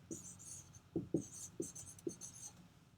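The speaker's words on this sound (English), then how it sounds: "let's go ahead and write our names up at the top" Pencil scratching across paper while a name is written, a few short strokes in quick bursts, close and quiet, with no talking.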